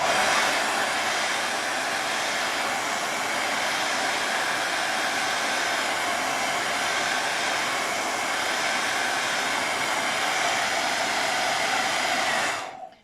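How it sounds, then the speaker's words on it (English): Hair dryer blowing continuously on a painting in progress, a loud, steady broadband roar lasting about twelve seconds before switching off abruptly, with no talking. "I'm going to dry this part."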